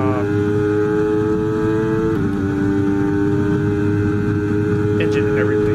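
A loud Formula 1 car engine in the F1 23 racing game played in VR drones at a high, steady pitch with a slight drop and rising revs, while a person talks over it.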